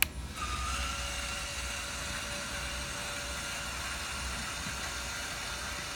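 A small electric motor whines steadily as the dump body on a 1/14 scale Kenworth T800 RC truck raises, a thin continuous mechanical hum close by with no talking.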